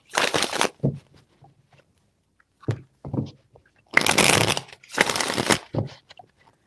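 Tarot cards are shuffled in several quick riffling bursts close up, with short pauses and small taps of the deck between them.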